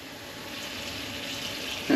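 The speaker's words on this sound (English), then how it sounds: "Go ahead and turn a little water on here in the sink" Kitchen sink faucet running a small stream of water, a steady soft hiss building slightly over two seconds, alone and close.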